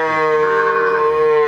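A single long, loud moo from a cow at a dairy farm, one sustained harmonic call lasting about a second and a half, close and clear with no talk over it.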